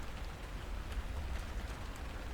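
Rain falls steadily in a dense, even patter with a low rumbling undertone, a continuous wash of faint drops and no voices, set in a trucker horror story.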